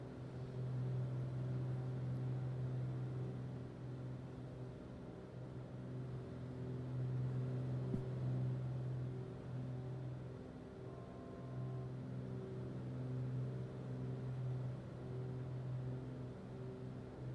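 Steady droning aircraft engines from a flight simulator during an IFR ILS approach, a constant low hum with gently swelling tones and no speech.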